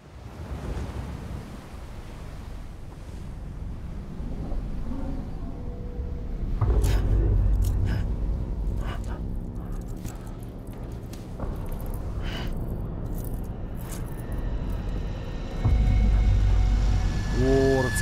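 Rain and running water in the video game Death Stranding, a steady broadband wash with low rumbling swells, continuous throughout with a voice talking over it.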